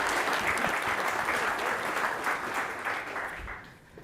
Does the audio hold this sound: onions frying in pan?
no